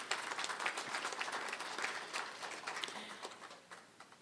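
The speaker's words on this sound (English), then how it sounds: "I think we need to give these territories a round of applause" Audience applause at an EMTCT validation ceremony, a steady wash of many hands clapping at moderate loudness throughout, slowly fading toward the end.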